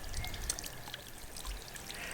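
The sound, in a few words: water trickling in a garden water feature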